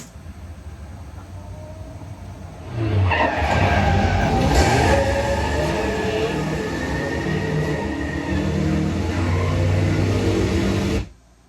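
A loud, rough burst of tires squealing and scrabbling over loose ground, with a gritty rumble that holds for several seconds and then cuts off.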